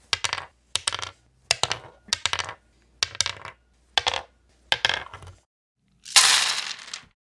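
Dice are rolled on a table in a tabletop role-playing session, giving a series of about eight sharp, evenly spaced clattering rolls, close and loud, ending with a longer rattling tumble.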